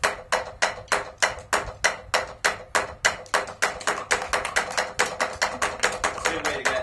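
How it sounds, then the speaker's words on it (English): Inverted double strokes on a drum played up close, crisp sharp hits in a steady repeating pattern that speeds up slightly toward the end, with no voices. "the first one was called an inverted double stroke"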